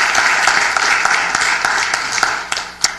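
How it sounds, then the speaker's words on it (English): Loud, steady applause from the audience at a city council and housing authority meeting honouring a local student athlete, many hands clapping continuously and tapering slightly near the end. "let's give Brandon a big round of applause for that"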